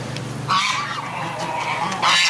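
Geese and ducks in a farm sanctuary barn honk loudly and close by, with repeated overlapping calls in quick succession and no talking.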